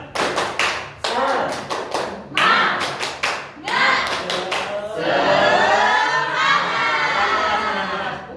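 A classroom group claps in quick rhythmic bursts, pausing briefly between patterns, then breaks into cheering and children shouting near the end.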